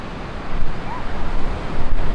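Loud, rushing ocean surf at Daytona Beach with strong wind buffeting the microphone, a continuous broad roar that swells slightly toward the end.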